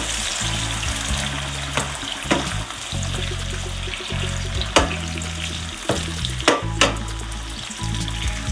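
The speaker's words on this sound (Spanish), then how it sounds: "Hemos puesto un poquito de aceite, ya calentito, le vamos a añadir el pimiento" Bell pepper frying in hot oil in a pan for a tomato sauce, a loud continuous sizzle close up, broken by several sharp knocks and scrapes of stirring, with no voices.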